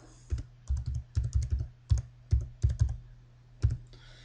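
Someone types a new password on a computer keyboard: short, close bursts of plastic key clicks in uneven clusters, with pauses between them and no voices.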